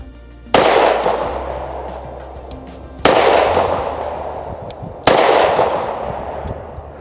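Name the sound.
Kimber CDS9 pistol firing 50 grain civil defense rounds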